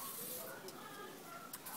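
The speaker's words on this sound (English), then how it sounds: "hairspray to spray all over the puff" An aerosol hairspray mists over a high puff of natural 4C hair, making one faint, continuous hiss that lasts the whole moment.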